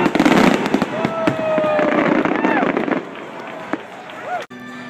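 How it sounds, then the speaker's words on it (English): Fireworks bursting at a Disney Christmas party, with dense crackling, booming and whistling rockets rising and popping one after another amid a noisy crowd, loud and fairly near. "I have some snippets of the fireworks"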